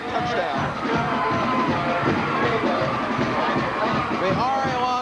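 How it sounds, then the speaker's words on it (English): An R.A. Long Lumberjacks high school football crowd cheers a kickoff-return touchdown against Camas, a loud sustained roar of shouts and whoops in a stadium, with an announcer talking over it. "The R.A. Long Lumberjack crowd's going wild"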